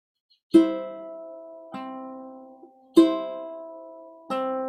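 Ukulele plucked notes alternate back and forth, a fretted note then the open third string, four notes ringing slowly and cleanly with no talking.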